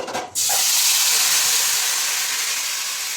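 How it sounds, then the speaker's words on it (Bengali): Spice paste for mustard hilsa hits a hot pan and bursts into a loud, steady sizzle that holds with little change, with a short rustle just before it. "আমি এখন মশলার পেস্টটা দিয়ে দিব"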